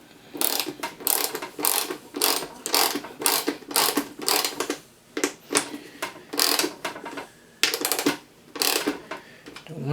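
A ratchet drives bolts to fasten a custom plexiglass airbox onto a 1985 Mazda RX-7, making close, rhythmic bursts of rapid clicking separated by short pauses, with no speech.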